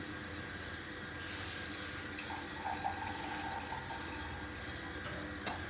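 Room-temperature water is poured into a bowl in a kitchen, a faint, steady splashing trickle that runs continuously for several seconds.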